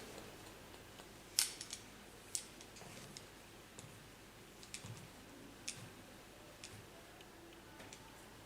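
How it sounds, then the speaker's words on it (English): Scissors point-cut hair for a pixie cut, giving sparse, quiet, crisp snips at irregular intervals close by, one sharper snip standing out against a near-silent background. "take the hairs up, take them high, and then point cut"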